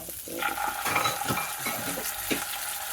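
Ginger paste going into hot spices in a pan for a Bengali vegetarian taro-leaf dish, with steady sizzling and frying under repeated scraping and stirring strokes, close and fairly soft, no talking.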